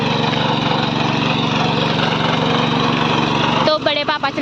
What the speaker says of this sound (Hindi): बड़े पापा चला रहे हैं अभी ट्रैक्टर।